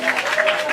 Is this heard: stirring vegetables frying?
no